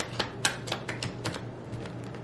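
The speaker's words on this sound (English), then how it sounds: "now I'm going to shuffle this deck" A deck of tarot cards is shuffled up close, giving quiet, irregular papery flicks and taps in a soft, uneven rhythm.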